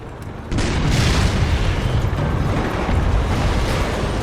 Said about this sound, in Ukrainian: Підривається самохідка.